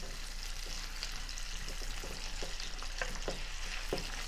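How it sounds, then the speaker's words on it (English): Onions and green pepper fry in a pan, turned with a wooden fork, giving a soft, continuous sizzle with faint, occasional stirring taps in the background. "I'm just taking a wooden fork to try to turn the onions and the green pepper"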